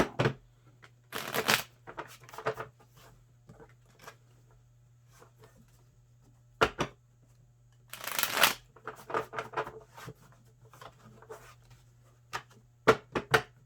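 Stiff tarot cards being shuffled in several quick riffling bursts, crisp flutters separated by pauses and softer handling taps, close up with no talking.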